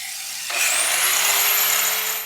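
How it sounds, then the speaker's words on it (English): A Rubi TC125 tile saw makes a shallow pass into tile, its motor whine jumping up as the blade bites and then holding a loud, steady, high-pitched grinding hiss. "Run the saw the full length of your cut and then return to the starting point"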